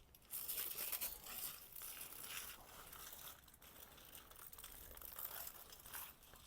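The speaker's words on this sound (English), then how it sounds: "we're going to open up the foil and check for tenderness" Aluminium foil being opened from around smoked Texas-style pork ribs cooked on an offset smoker, giving continuous close crinkling and rustling that swells and eases over several seconds, quiet overall.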